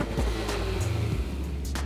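A classic Nissan Skyline car driving, its engine note close and steady, stepping briefly in pitch over a couple of seconds.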